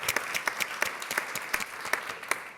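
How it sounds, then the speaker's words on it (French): Scattered audience clapping at a maritime event, a moderate patter of individual claps with a few sharper near ones standing out over a soft background. "Vous pouvez l'applaudir quand même."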